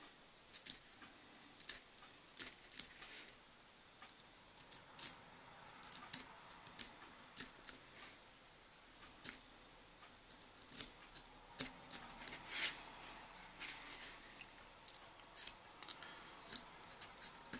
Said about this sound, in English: just take the X-Acto knife and work the corners off